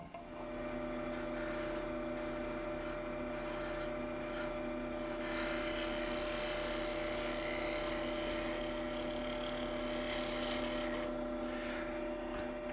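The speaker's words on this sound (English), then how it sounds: "Now I'm going in and take a finish cut." A wood lathe takes a smooth finish cut on a turned worry stone, giving a steady close rasping, rubbing hum with a constant motor drone underneath that brightens and intensifies midway, continuous with no talk.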